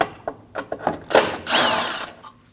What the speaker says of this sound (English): Using a T30 bit, remove the 2 screws.